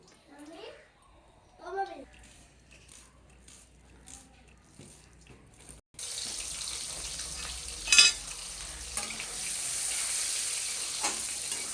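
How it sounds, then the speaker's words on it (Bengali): Meat frying in oil with turmeric breaks into a loud, steady sizzle about halfway through. Before that there is a quieter stretch with a voice and soft kitchen noises. "মাংসের মধ্যে একটু তেল দিয়ে নিলাম। হলুদ,"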